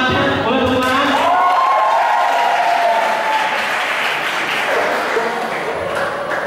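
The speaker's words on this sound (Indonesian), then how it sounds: "Boleh tepuk tangan?" An audience at a seminar session in Jakarta bursts into loud, sustained applause and clapping, with a few cheers mixed in, gradually tapering off.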